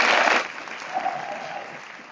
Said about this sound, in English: So please, friends, give them a round of applause.